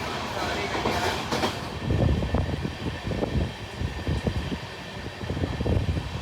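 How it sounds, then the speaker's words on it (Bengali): An IRCTC Bharat Gaurav tourist train runs along the track, with a steady rumble and repeated clickety-clack of wheels over rail joints heard from inside a carriage. Brief noisy bursts come early on, and a voice murmurs faintly in the background. "এটা কিন্তু নর্মাল এক্সপ্রেস ট্রেন বা লোকাল ট্রেন নয়"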